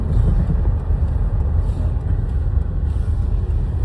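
A car engine hums in a low, steady rumble while driving on frozen winter roads, continuous and fairly loud with no voices.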